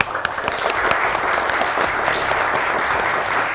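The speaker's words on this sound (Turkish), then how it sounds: "Hadi onlara da bir kuvvetli alkış verin." Studio audience applause on the Turkish word game show Kelime Oyunu, a steady, dense burst of clapping filling the room from start to finish with no talk over it.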